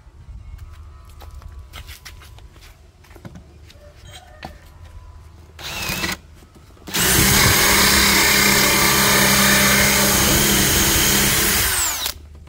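A DeWalt DCD796 cordless drill with a 32 mm Hasston hole saw bores into thick wood: a short burst, then a loud, steady grinding cut of about five seconds that stops abruptly, over a quiet background.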